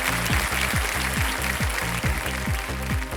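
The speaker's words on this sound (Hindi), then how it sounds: "और ताली बज गई है पहले से ही" Studio audience applause on the Indian television quiz show Kaun Banega Crorepati, a steady, dense wash of clapping that runs loud and unbroken from start to finish with no talk over it.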